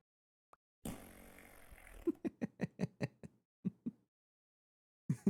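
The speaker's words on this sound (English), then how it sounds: "I haven't heard those fart noises in a while" Cartoonish fart noises in the Minecraft modpack GregTech New Horizons: a longer blurt followed by a rapid string of about eight short, punchy pops, then a pair more after a pause.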